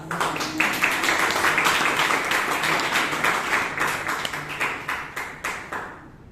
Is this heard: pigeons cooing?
no